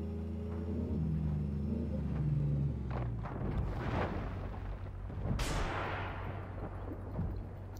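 A T-15 HIFV tank fires rockets in the video game Armored Warfare, with several booming launches and blasts that rise and decay over a low, constant engine rumble, loud and close, with no talking.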